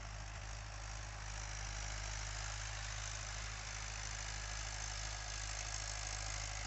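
A 2019 Mahindra 575 DI tractor engine runs with a 6-foot rotavator in a field, giving a steady, unbroken low diesel drone at moderate distance with no talking.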